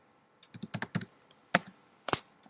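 Keys clatter on a computer keyboard in a few quick irregular bursts of sharp clicks, close and fairly clear with no talking.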